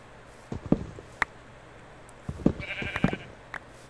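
Sheep in Minecraft give a few short, close bleats at irregular intervals against a quiet background, with soft footstep-like thuds in between.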